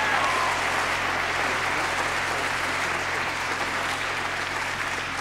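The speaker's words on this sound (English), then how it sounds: "Give them a hand clap for them." A gospel concert audience claps steadily for a youth gospel choir, a dense, even wash of applause from a sizable crowd lasting throughout, with no voices rising above it.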